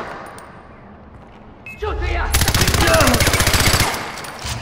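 Far Cry 4 video game gunfire: a rapid automatic burst of many shots in a fast even rhythm, loud and close, after a quieter stretch of background game noise.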